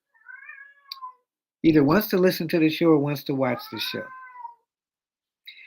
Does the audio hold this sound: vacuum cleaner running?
no